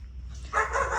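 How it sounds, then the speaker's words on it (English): Several dogs barking outdoors at a coconut farm, a burst of loud, close barks and yips starting midway through after quieter background noise. "excuse the dogs"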